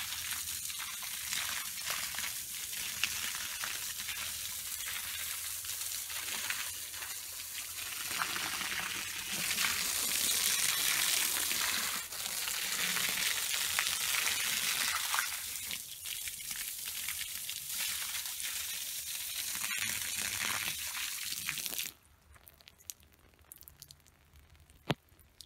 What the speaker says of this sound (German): Wir haben jetzt 19 Minuten das Wasser ablaufen lassen.